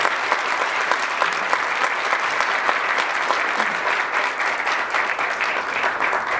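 Applause welcoming speakers at the Jaguar Car Design Award 2016 in Korea, a large audience clapping loudly and steadily from start to finish with no letup.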